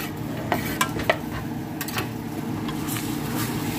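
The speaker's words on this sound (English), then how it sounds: "And we're gonna toast that around." Chopped onions and garlic toast in a hot pan for beef and rice. A continuous close sizzle runs under several sharp clicks of a spoon being stirred against the pan.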